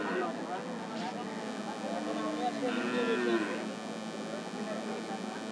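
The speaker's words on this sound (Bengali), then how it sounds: "দর্শক দেখতে পাচ্ছেন এই পাশে একটা কালো ষাঁড় গরু ধরে আছে এক ভাই।" A black bull at a busy Rajshahi city cattle market, giving a low drawn-out moo under constant crowd noise and talking nearby.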